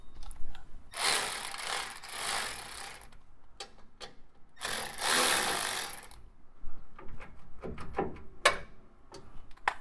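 A ratchet clicks in quick bursts while bolting a sway bar onto a 1971 Chevelle SS, with two longer cranking runs and scattered short clicks and metal taps between them, close and moderately loud.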